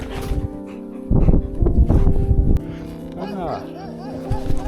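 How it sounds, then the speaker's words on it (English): A dog barks in a close, loud burst of several barks during a roadside encounter on a solo bike trip through western Canada, over a steady low hum, with quieter sounds before and after. "Nice little encounter with the dog."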